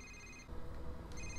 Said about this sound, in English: Next person whose phone rings has to eat it!